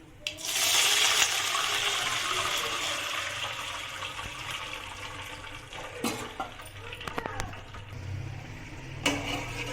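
Two cups of water poured into a pan of fried tempering spices while making Bhimavaram-style semiya upma: a loud rushing splash and hiss at first that settles into a steadier, softer flow, with a few clinks near the end.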